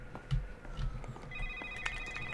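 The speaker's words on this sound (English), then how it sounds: "Phone's ringing again." A telephone rings inside the video game Stone, a faint electronic trill repeating over a low, murky ambient background.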